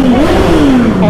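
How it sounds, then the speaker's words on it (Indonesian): A motorcycle engine revs up at a hill site called Bukit Pelangi, a steady, loud mid-pitched drone with a rising and falling pitch sweep, close by and continuous throughout. "Oh ya, mau geber ya."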